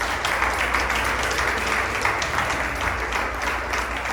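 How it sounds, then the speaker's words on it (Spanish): A church congregation applauds during a communion service, a dense, steady wash of clapping hands that continues at full strength for the whole stretch. "Dame un aplauso al Señor."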